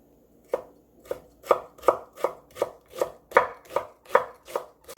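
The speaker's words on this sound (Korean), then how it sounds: "당근 중간 크기 1개 채 썰어 줄게요." A knife cuts a medium carrot into thin julienne strips on a board, giving about a dozen crisp, evenly spaced chops in a steady rhythm, close and alone.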